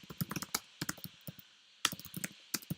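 Computer keyboard typing at close range, quick bursts of crisp key clicks separated by short pauses, with no voices.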